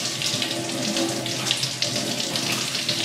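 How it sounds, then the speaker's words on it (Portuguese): Steady running tap water pouring over a telescope mirror being rinsed at home, a continuous close splashing hiss with small fluctuations and no voices. "Então, vamos lá, bastante água corrente."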